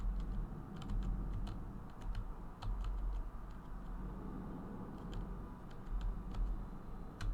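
Quick, irregular clacks of computer keyboard keys sound close up while a horror video game is played, over a low steady background hum.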